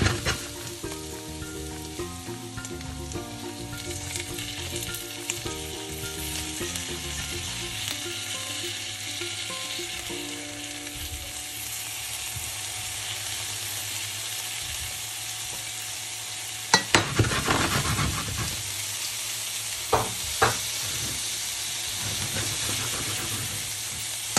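Broccoli with tofu sizzles and is stirred in a frying pan, a steady hiss with louder utensil clatter partway through; a tonal backing melody plays over the first stretch.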